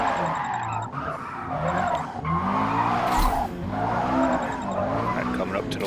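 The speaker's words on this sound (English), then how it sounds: "I do a little bit of drifting in here too" A car drifts through corners in Forza, tires squealing in long wavering howls over a revving engine, loud and close, with short breaks between slides.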